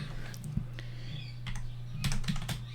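Keys on a computer keyboard tapped in short irregular bursts of clicks, close and moderately loud over a low steady hum, with no talking.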